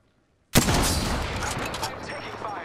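Sudden burst of rapid gunfire in the Apex Legends battle royale shooter, starting after a short silence and continuing as a loud, dense volley of shots with echoing tails.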